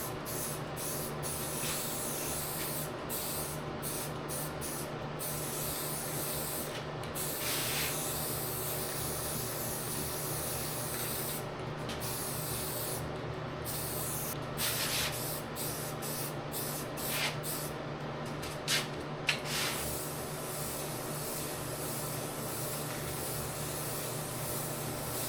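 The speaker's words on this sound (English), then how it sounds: "there's the first coat of spray on the top" Spray paint hissing steadily onto the top of a Massey Ferguson GC2300 tractor's Curtis cab, a continuous close broadband spray with brief pauses and bursts between passes, no talking.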